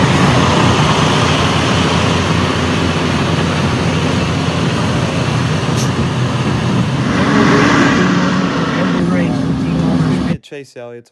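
Race cars roar during daytime practice for the Daytona 500 in heavy heat, a loud continuous engine drone with rising passes, ending abruptly; a voice talks beneath the noise.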